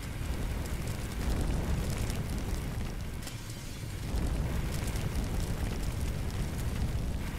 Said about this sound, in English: there's a fire back here